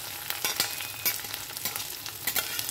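Black cumin seeds, dried chillies and chopped garlic sizzling in hot mustard oil in a pan, a quiet steady crackle with small pops and scrapes from stirring.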